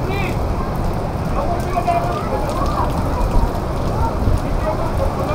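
Steady rain falling outdoors in the Philippines, a dense continuous patter and hiss close by, with faint voices in the background.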